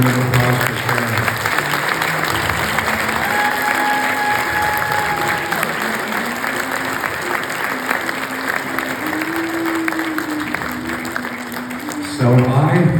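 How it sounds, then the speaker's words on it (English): A seated audience gives a round of applause at a speech event honoring Sarah, steady loud clapping that carries on for several seconds with a voice briefly over it near the end. "Let's have another round of applause for Sarah."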